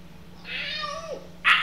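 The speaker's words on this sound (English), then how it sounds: "That is the cat we've got." A cat gives one drawn-out meow that bends downward at the end, close and fairly clear, followed by a brief sharp noise.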